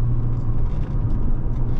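A 2012 Audi A4 2.0T Quattro drives along with a steady, close engine drone and low rumble, dipping briefly mid-way before resuming, with no talking.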